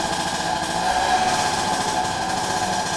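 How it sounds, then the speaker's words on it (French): A tuk-tuk motor tricycle engine near a monastery in Laos runs with a steady, loud, buzzing drone, close by and continuous, with no speech. "bruit de tuk-tuk, triporteur à moteur et musique ne rendent pas la vie si monastique que ça."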